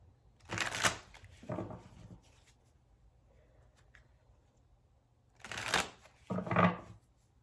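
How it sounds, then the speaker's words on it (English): Tarot cards being shuffled by hand, two pairs of brisk riffling bursts separated by a quiet pause, close and fairly soft with no talking. "3 more shuffles for Libra."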